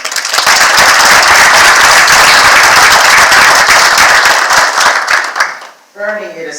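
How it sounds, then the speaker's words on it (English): Audience applause at a community college ceremony honoring a WWII Ghost Army veteran, loud sustained clapping filling the hall for several seconds before fading as a speaker begins talking. "Let's give them a round of applause one more time."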